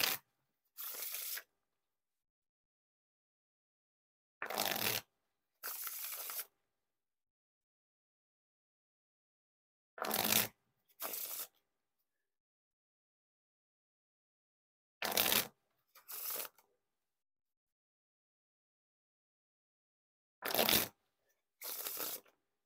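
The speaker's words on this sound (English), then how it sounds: "Now time for the riffle shuffle or bridge shuffle." A deck of 2nd playing cards riffle or bridge shuffled five times, each a sharp burst of riffling followed by a brief cascade, separated by silent gaps, close and clear with no talk.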